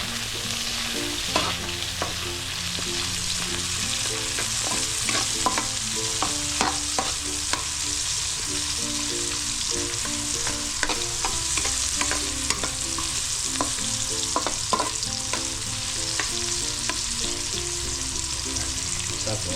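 Onion and garlic sizzle steadily as they are sautéed in a pan, while a ladle scrapes and clinks against the metal in frequent irregular strokes, close and continuous for the whole stretch, with no talking.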